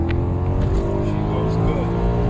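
A 2010 Maserati GranTurismo convertible's engine drones loudly and steadily under acceleration, heard close from inside the car with someone talking over it.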